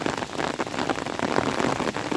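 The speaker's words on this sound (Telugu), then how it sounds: "మళ్ళీ వర్షం స్టార్ట్ అయిపోయింది" Steady, dense rain pattering on a surface, a constant hiss of drops with no letup and no voices.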